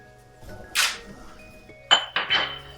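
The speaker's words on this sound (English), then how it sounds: "I'm just going to give that a stir." Spices are stirred in a cooking pan for a two-beef, two-bean chilli, with a scrape followed by a few sharp metallic clinks of the utensil against the pan, close and isolated.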